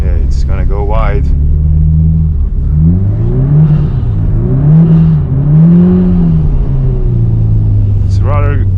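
Subaru Impreza WRX STI driving on an ice track, its engine a steady close rumble that rises and falls as the revs change, with someone talking briefly near the start and end.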